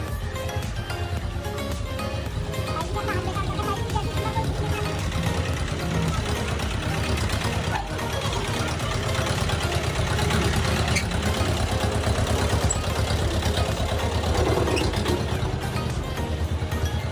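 A farm tractor idles in a village with a steady low, rumbling, slightly clattery drone that holds even and unbroken throughout at moderate distance.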